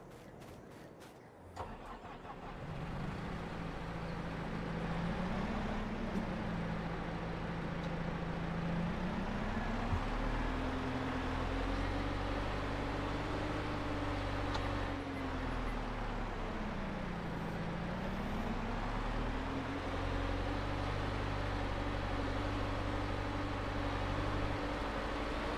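A skid steer's engine in Farming Simulator 22 starts up, then holds a steady mid-pitched drone, revving up and down as it drives over uneven ground, close and continuous throughout.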